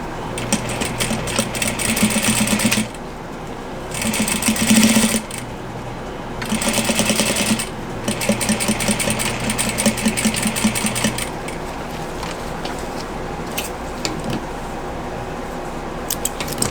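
A sewing machine sews a plaid fabric face mask in several loud, close bursts of rapid stitching with short pauses between, then gives way to quieter handling clatter and clicks, with no talk.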